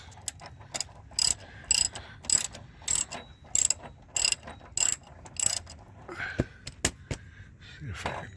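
Ratchet clicking in repeated short bursts as long bolts are turned on GMC truck running boards, close and loud, with faint handling noise between strokes.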